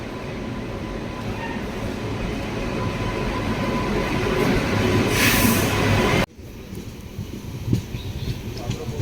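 A train rumbles loudly and steadily at Tirupati railway station with rattling wheels and a hiss, then the sound cuts to quieter station ambience with scattered clanks.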